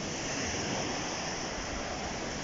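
High waves, some over a metre, breaking along the Black Sea shore on a warm summer day, a steady dense wash of surf with a constant roar and no pauses.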